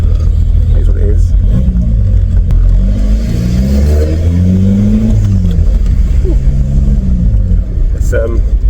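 A VW Passat TDI with a freshly replaced PD150 turbo accelerates on the road, its engine pitch climbing and falling in a loud rev sweep under a constant cabin rumble, with talk mixed in.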